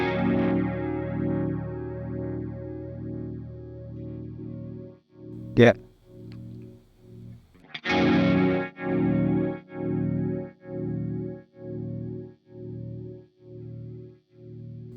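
Guitar through a delay/flanger pedal set to tape mode with the delay time knob at 12, sustained distorted chords sweeping in a wavering flanged whoosh, then rhythmic pulsing repeats, with a brief spoken word in between.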